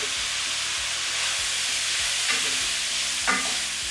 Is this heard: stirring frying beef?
yes